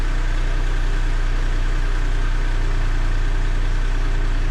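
A car engine idles steadily right after being cranked, a loud, constant low rumble with an even pulse and no change in speed, close by with no other sounds.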